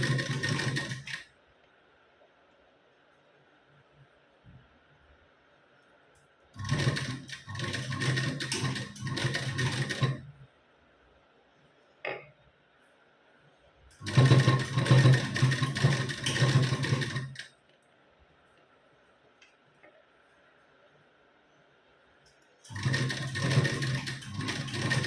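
A sewing machine stitches a katori blouse in four close, loud bursts of rapid running stitching, each lasting a few seconds and separated by quiet pauses.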